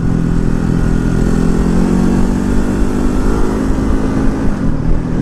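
A 2019 Ducati Hypermotard 950 engine droning steadily while riding, loud and close with a rumbling hum and slight shifts in pitch, no voices.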